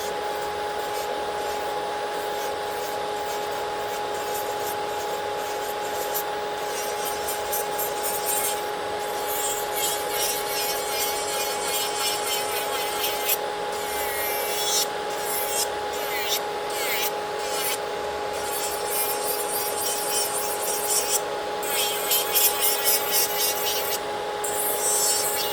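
A Saviland 50,000 RPM electric nail file runs steadily on acrylic nails, a constant high whine with a fine rasping, scraping texture that grows a little busier in places across the whole stretch, no one speaking.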